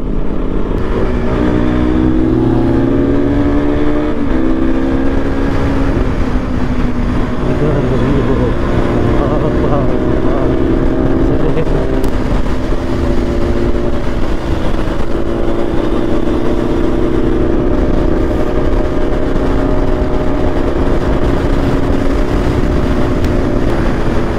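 A motorcycle with 56,000 km on it runs steadily nearby, a loud continuous engine drone with a low rumble and faint tonal whine that stays even throughout, with no obvious revving.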